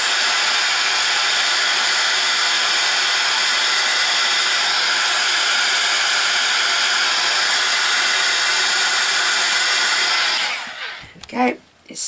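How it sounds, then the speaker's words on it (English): Heat gun blows steadily to dry paint on a handmade Easter card, a loud, close, constant hissing roar that runs for about ten seconds before switching off into a few soft handling noises. "I'm just going to quickly pop the heat gun onto it so that I can continue on."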